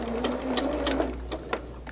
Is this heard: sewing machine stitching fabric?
yes